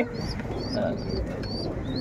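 A KTM breed pigeon cooing close by in brief soft calls, with thin whistling notes and light background noise around it.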